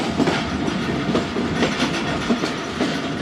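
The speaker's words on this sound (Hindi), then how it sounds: "कोटसमावा पास कर रही है ट्रेन" A Zakariya Express passenger train passing Kotsamawa on its way to Port Qasim, Karachi, rolls along the tracks with a loud, close, continuous rumble and a steady clickety-clack of wheels.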